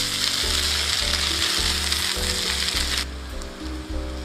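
Egg Manchurian is tossed and mixed in a pan over high flame, giving a loud, close sizzle with rhythmic scraping thuds of the spatula that ease off near the end.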